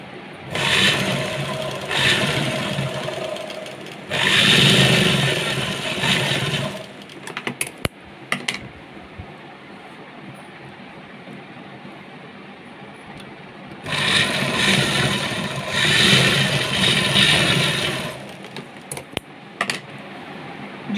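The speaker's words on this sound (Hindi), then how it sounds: "अब इसको इस तरीके से पलटेंगे और यहाँ पर एक सिलाई लगाएंगे" A sewing machine stitching fabric for a top, loud whirring bursts of a few seconds each, separated by pauses with small clicks and handling noises.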